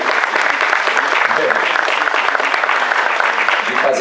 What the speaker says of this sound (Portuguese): que é o Silvio Santos, que merece os nossos aplausos mesmo